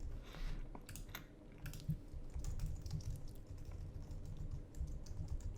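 Fast typing on a computer keyboard, close and quiet, forms a continuous stream of light clicky keystrokes for several seconds with no voices.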